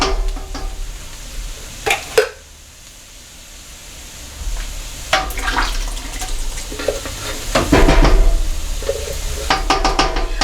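Canned kidney beans and tomatoes with their juice tumble and splash into a chili pot, giving a few sharp clatters followed by wet slopping and stirring, close and fairly loud.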